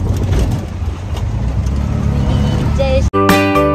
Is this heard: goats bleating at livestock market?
no